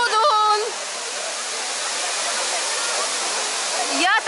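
Dudhsagar waterfall in Goa, India, roaring as a steady, loud broadband rush of falling water, with brief voices at the start and end.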